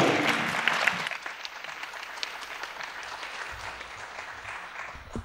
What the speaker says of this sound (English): let's give a cordial applause to our dear guest